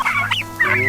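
Farm turkeys moved daily onto fresh grass give loud, close clucking calls, two quick bursts within a second.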